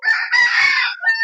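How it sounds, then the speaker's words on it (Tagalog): A derby-size fighting rooster gives one loud, close crow that rises and holds for about a second, with a brief cluck after it. "Talagang maganda talaga ang manok na ito. Derby size."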